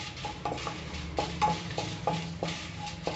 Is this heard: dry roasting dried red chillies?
yes